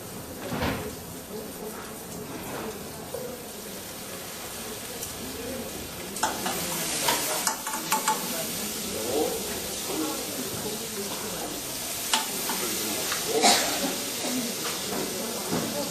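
Vegetables stir-fried in a pan, a continuous soft sizzle with intermittent scraping and clattering of the utensil against the pan, growing busier in the second half, while a person talks over it.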